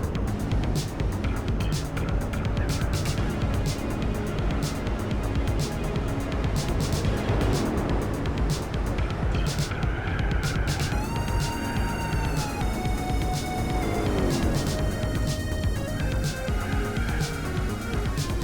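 Buick race car in Gran Turismo 4 accelerating hard with one wheel spinning all the way into fourth gear, a loud continuous engine drone rising through gear changes, with someone talking over it.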